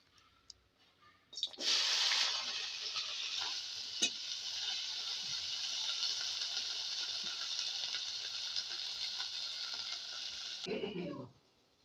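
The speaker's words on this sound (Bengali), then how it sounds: "এখন ভেজে নেব ভেন্ডি" Sliced okra fries in a hot pan with oil, a sudden bright sizzle that holds steady for about nine seconds, broken by a sharp stir click, before it cuts off.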